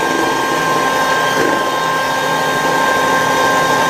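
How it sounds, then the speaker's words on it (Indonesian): An electric mixer beats flour and fermented cassava tape into dough for kue samir, giving a steady, loud, unbroken motor whir. "Biar lebih halus ya kalau pakai mixer."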